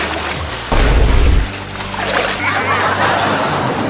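Water splashes loudly in a short burst close by while someone swims, followed by softer sloshing and background voices.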